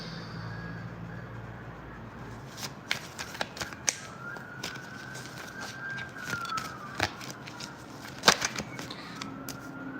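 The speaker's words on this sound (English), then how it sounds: "Anyone else hearing the sirens in the background, like as I start this?" Police sirens wail faintly in the distance, a thin rising and falling tone behind close shuffling, clicking and handling noises.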